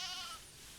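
A single short bleat from a sheep in the Planet Zoo game, a kind related to the bighorn sheep, wavers for a moment and then fades out, fairly faint and heard alone.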